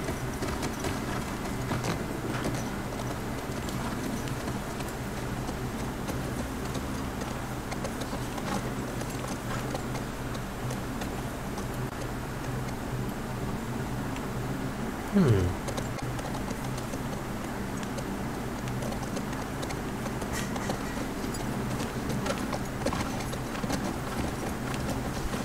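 Horse hooves in The Last of Us Part II, a steady rhythmic clip-clop of galloping running throughout at moderate level over a low game ambience, with a brief louder thump partway through.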